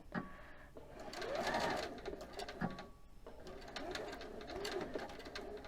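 A sewing machine stitches in short bursts up to the end of a seam, close and fairly quiet, with a pigeon cooing softly in the background.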